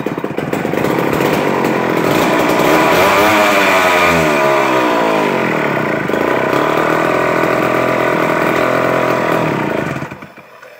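An old Homelite C-52 chainsaw fires up and runs loud and close, its two-stroke engine revving up and settling to a rough idle for about ten seconds before cutting off abruptly.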